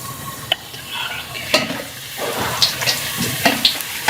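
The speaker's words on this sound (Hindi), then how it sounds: "हमारा उधर से घी भी गर्म हो चुका हुआ है और पूरी भी तकरीबन तैयार है, तो हम घी के अंदर डाल देंगे इसको बेलने के फौरी बाद" Puri dropped into hot ghee and fried for halwa puri, giving a steady close sizzle with scattered sharp clicks and stirring knocks, no talking.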